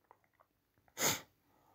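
One sharp, loud sneeze bursts out close by after a few faint breaths and small mouth noises, then fades into quiet.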